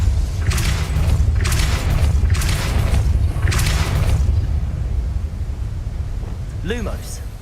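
Spell effects cast in the Hogwarts Legacy video game, heavy booming thuds recurring in a steady rhythm over a low rumbling ambience, then a brief rising magical whoosh near the end.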